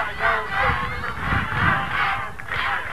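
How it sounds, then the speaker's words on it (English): A spectator crowd at the 1997 NCAA Division II men's lacrosse national championship, NYIT against Adelphi, chants in loud rhythmic swells, a steady roar of many voices outdoors. "you can hear the Tech crowd chanting, "Let's go Tech,""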